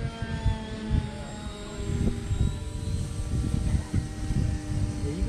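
Freewing Mirage hi-alpha RC model jet flying overhead, a thin, sustained whine drifting in pitch above gusty, rumbling wind noise.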